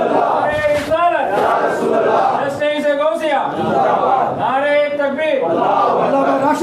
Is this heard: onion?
no